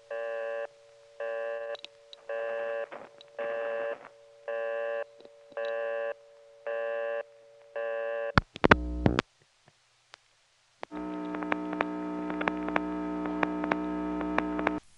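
A 1970s payphone line on local coin control gives a run of eight evenly spaced tone bursts, then a loud clunk of the coin collect, a short silence, and a steady lockout tone that holds to the end.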